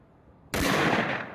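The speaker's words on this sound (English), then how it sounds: "We shot a bunch of 30 caliber ammunition" A single loud, sharp blast from a Winchester Model 70 rifle chambered in .30-06 hits at once after near silence, then a long rolling echo fades out.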